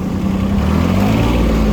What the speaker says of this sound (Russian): Смотрите, очень резвый трактор, ускоряется просто как легковушка